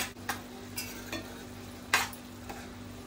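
Whole masoor dal masala is stirred in a pan, giving quiet sizzling under a few soft scrapes and clinks of the spoon against the pan at irregular intervals.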